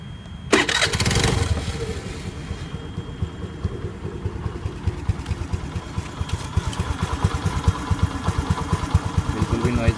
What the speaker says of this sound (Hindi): गाइस आपको इंजन का नॉइज़ आवाज़ और सुना देते हैं।